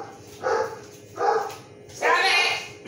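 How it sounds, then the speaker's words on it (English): A dog barks three times in quick succession, close and fairly loud, each bark a short burst with a brief pause between them, over a quiet background. "there's nothing wrong with his barking"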